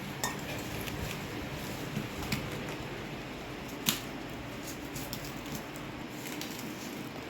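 Chapati dough being mixed with water in a bowl by hand, a continuous soft squelching and kneading texture with faint clinks of the bowl, steady and close, no talking.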